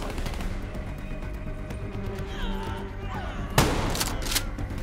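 Shotgun fire in Call of Duty: Black Ops III sounds in several quick shots, with one loud sharp blast standing out near the end.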